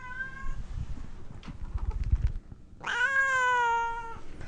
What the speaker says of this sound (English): Grant's cat